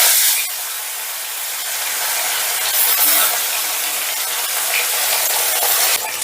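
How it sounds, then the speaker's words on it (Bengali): Fish sizzling in hot mustard oil in a wok over a medium gas flame, a steady close hiss and crackle that swells slightly midway and continues without talk. "এবারে গ্যাসের আঁচটা মিডিয়ামে রেখে মাছগুলোকে আমি হালকা লাল করে ভেজে নেব।"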